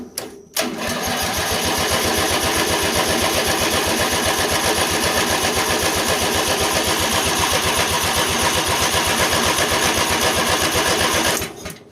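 A Lawn Boy lawn mower engine cranks over through its starter solenoid in one long continuous burst, a loud, rapid rhythmic chugging that starts abruptly and cuts off cleanly after about eleven seconds.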